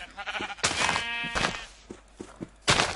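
A sheep in the Minecraft video game bleats amid game sound effects. It is faint and sits under a busy, noisy mix.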